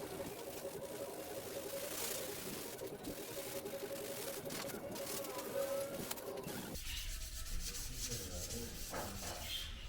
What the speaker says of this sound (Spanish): ya estamos en el proceso de lijado. Estamos lijando lo que vienen haciendo los marcos